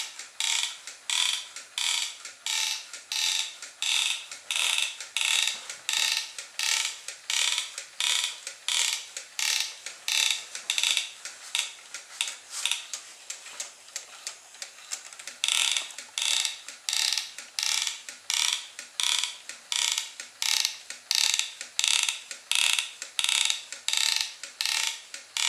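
A crawler robot built from an old DVD drive inches across carpet, its inchworm mechanism giving off a steady train of rapid mechanical whirring bursts, each a short gear-driven buzz, repeating rhythmically about once a second, close and clear with no talk.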